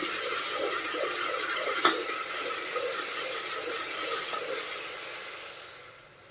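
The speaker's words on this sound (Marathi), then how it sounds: "इथे मी बारीक चिरलेला दोन कांदे घेतले कांदा आपण आता भाजून घेऊया" Two finely chopped onions frying in oil over a high gas flame, a soft even hiss with one brief clink, fading out toward the end, and no speech.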